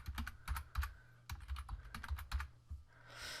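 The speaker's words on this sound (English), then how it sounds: "So let me type in my IP address." Quick bursts of keystrokes on a computer keyboard enter an IP address while connecting to a Raspberry Pi from a Windows laptop, close and fairly quiet, in an uneven typing rhythm with short pauses and no voices.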